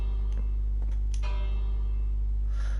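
A bell in a Minecraft clock tower rings a few times in quick succession, bright metallic strikes with a short ringing tail over a steady low hum.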